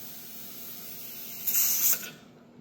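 A pressure canner vents steam on a stove: a steady, soft hiss rises briefly into a louder, sharp spraying jet, then falls away to quiet.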